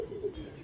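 A racing homer pigeon gives a single short, low coo, close by and soft, with no talking.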